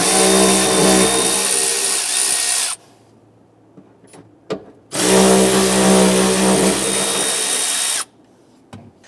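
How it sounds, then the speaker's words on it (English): A power tool driving an 8mm socket whirs loudly in two long bursts while removing bolts from a 1994-2004 Ford Mustang fuel tank, with brief clicks and clatter in the quiet gaps between runs. "We're using our 8mm socket to remove these."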